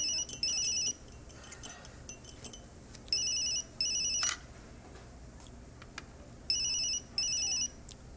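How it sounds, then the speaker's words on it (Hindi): A telephone rings in short electronic double bursts, repeating in three pairs with pauses between them, fairly faint against a quiet room. "लगता है वहीं से फोन है।"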